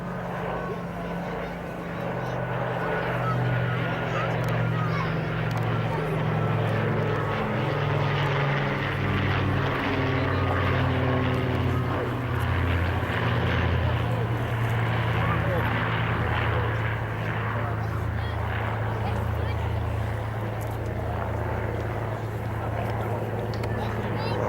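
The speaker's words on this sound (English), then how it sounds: "The Lancaster appeared on the memorial flight" The Avro Lancaster of the Battle of Britain Memorial Flight drones overhead, its piston engines giving a continuous, loud, throbbing hum that holds steady throughout with no other sounds on top.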